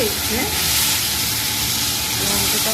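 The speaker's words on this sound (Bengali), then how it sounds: "এই যে কুমড়ো কেটে নিয়েছি কুমড়োটা দিয়ে দিচ্ছি" Sliced pumpkin sizzles in hot oil with cumin seeds, dried red chillies and whole cumin in a pan, giving a loud, steady frying hiss that runs unbroken throughout.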